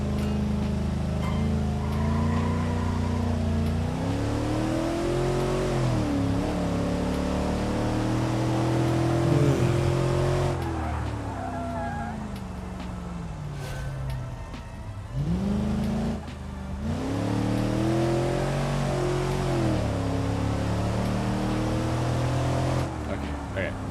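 Car engine in the Gran Turismo racing game, a sustained loud drone whose pitch climbs and falls in repeated rev sweeps, dipping briefly in the middle before rising again, continuous throughout.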